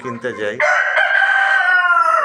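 A Tiger breed rooster on a small chicken farm gives one loud, close crow, starting with a few choppy notes before a long, sustained, drawn-out call.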